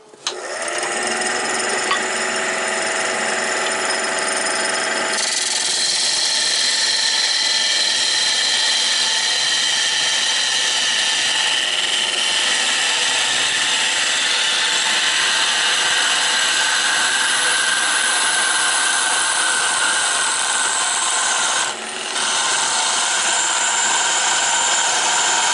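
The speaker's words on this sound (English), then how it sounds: "I'm gonna cut into my shoulder face," Wood lathe turning a bottle jig while a tool cuts into the shoulder face, a steady loud whirring and scraping drone that runs almost unbroken, with a brief dip near the end.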